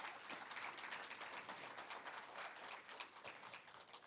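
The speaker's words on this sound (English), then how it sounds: "Let's give them another round of applause." Audience applause fills a winter high school graduation ceremony for a 2023 class, steady dense clapping sustained throughout, moderately distant and faint in a large hall.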